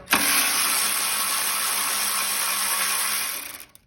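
A power driver backs out the skid plate bolts on a Craftsman snow thrower, giving one loud, continuous high whir held for about three and a half seconds before it cuts off.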